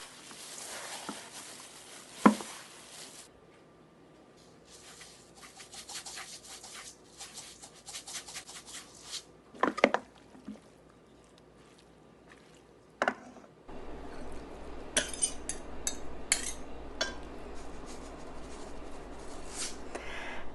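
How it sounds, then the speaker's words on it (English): Vegetable japchae being mixed by hand in kitchen gloves makes soft, irregular squishing, rubbing and rustling, with intermittent louder crinkles and slaps; quiet and close, with no voices. "Now the best way to mix this is honestly with your hands."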